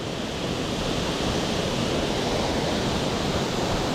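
Waterfall at Laurel Falls roaring as a dense, constant wash of noise, steady and unbroken from start to end, with no voices.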